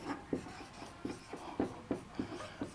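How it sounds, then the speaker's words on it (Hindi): Chalk or marker writing a line on a board during a chemistry lecture on the mole concept, a series of short scratchy strokes and taps in an irregular rhythm, close and fairly quiet, with no talk over it. "तो देखिएगा लाइन हम लिख रहे हैं"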